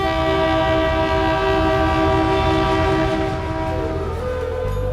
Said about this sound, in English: I finally make it onto my first train journey from Muzaffarpur to Motihari.